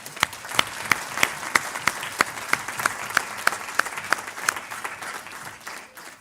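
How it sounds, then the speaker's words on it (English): An audience claps at a university professorial inauguration in a Faculty of Science hall. The applause is sparse and distinct, with individual loud claps standing out over a steady patter, and it fades away after about five seconds. "Ladies and gentlemen, a round of applause for an amazing man."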